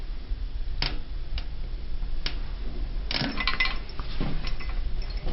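Steel tire spoons levering a Goldwing motorcycle tire onto its rim, giving scattered sharp metallic clicks and clinks at close range with no one talking.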